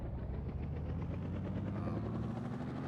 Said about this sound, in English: We're gonna start up our motor.